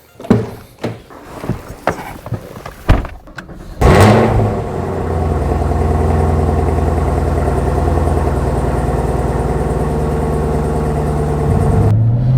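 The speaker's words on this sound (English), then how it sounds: "Let's go take it for a drive and I'll do a cold start for you." A few clicks and thumps lead into a sudden loud cold start of a Chevrolet Camaro ZL1 engine, which settles into a steady, deep, rumbling idle close by.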